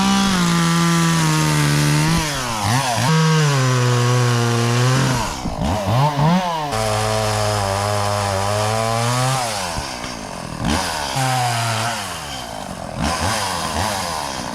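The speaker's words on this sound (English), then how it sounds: "Chainsaw number 2." A chainsaw cuts into a tree limb on a ranch, its loud engine revving steadily under load and dipping briefly between cuts, close and continuous throughout.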